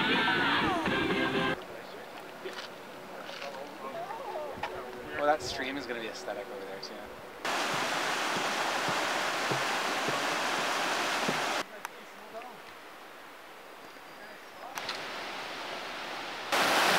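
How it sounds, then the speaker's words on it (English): Rushing broadband roar of a stepped waterfall on the hike to Joffre Lakes, British Columbia, that comes and goes in stretches, with voices heard between the louder bursts of water. "We then arrived at this really cool staircase waterfall"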